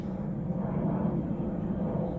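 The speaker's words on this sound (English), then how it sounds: "There's a plane out here." Airplane passing overhead outdoors, a steady low broadband roar that holds evenly throughout, moderately loud and distant-sounding with no voices over it.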